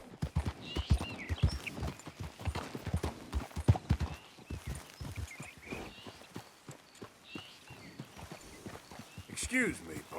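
Horse hooves clip-clop in an irregular walking rhythm in Red Dead Redemption II, with a brief whinny near the end and quiet voices underneath.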